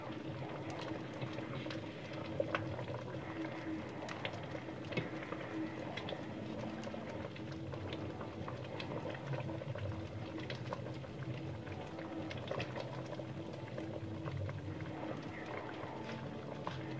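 Mung bean soup bubbles in a pot on the stove, a soft, continuous simmer with faint popping and gurgling throughout, fairly quiet and with no talk over it.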